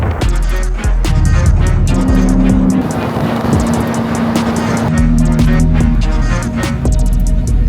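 Koenigsegg hypercars drive in a convoy during an owners' tour in Portugal, with loud, close engine roar and repeated revs and shifts. A car passes by near the middle, and there is no talk.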